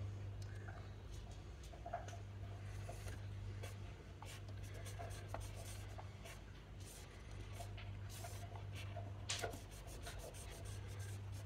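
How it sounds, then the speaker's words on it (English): Filler being rubbed back and forth into a hole in a laminate floor: quiet, repeated scratchy strokes at an uneven pace over a low steady hum. "And just rubbing it backwards and forwards so it gets not like a super smooth finish"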